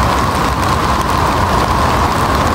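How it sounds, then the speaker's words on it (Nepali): Steady monsoon rain falls in a dense, even hiss, loud and close, with no voices over it. "पानी परिरहेछ है"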